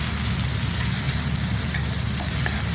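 Whole cumin seeds and chopped ginger fry in hot oil in a kadai, giving a steady, dense sizzle that holds at close range without letting up, with no voices present.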